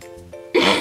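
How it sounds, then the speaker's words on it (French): A person lets out one sharp, close cough after a moment of quieter throat sound, loud and abrupt. "je toussais, mec"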